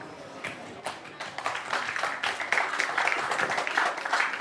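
Audience at a school anti-bullying talk show clapping, a crowd of many hands building from scattered claps into steady, fairly close applause.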